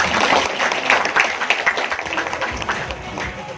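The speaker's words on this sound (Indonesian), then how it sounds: "Tepuk tangan untuk Pak Haji Wage Narman Esos." Audience at an Indonesian political community event clapping for a regional legislator, a short burst of applause that thins out quickly, with voices talking over it.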